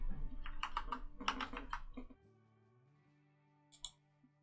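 Rapid typing of a short name on a computer keyboard, a close burst of clicking keystrokes lasting about two seconds, then quiet with a final pair of clicks.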